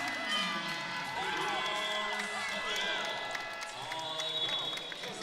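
A basketball crowd at a junior MPBL game between Antipolo and Quezon roars and cheers after a three-pointer, sustained and loud with whistling and squeaking sneakers mixed in.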